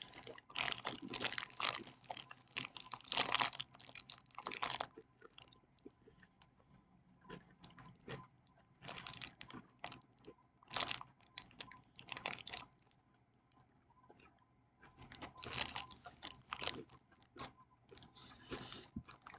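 Crunchy bites and chewing of a granola bar with a dark chocolate bottom, close and fairly loud, coming in repeated bursts separated by short quiet gaps.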